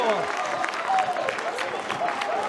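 Stadium crowd at Meggetland clapping and cheering after a rugby try in a Glasgow v Edinburgh Super6 match, steady applause with a commentator talking over it.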